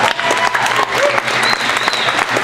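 Audience applause at a comedy hypnosis show, a dense, steady burst of clapping filling the room from start to finish with a few cheers mixed in.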